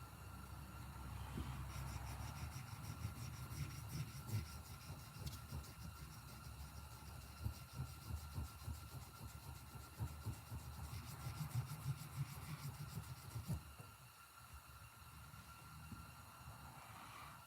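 Steady abrasive grinding on a custom Case Sodbuster knife blade, a continuous rough rasping hiss that runs for many seconds with small fluctuations, fairly faint and with no talking.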